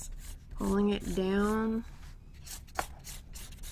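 A blending stump on white drawing paper makes soft, scratchy rubbing strokes that follow a brief spoken phrase, faint and close.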